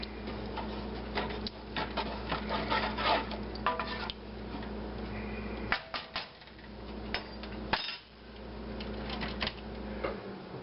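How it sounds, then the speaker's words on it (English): A spoon stirs a complete cup of liquid into rice and beans in a cooking pot, giving steady clinking and scraping ticks against the pot over a low continuous background hum, with no speech. "And give it a good stir."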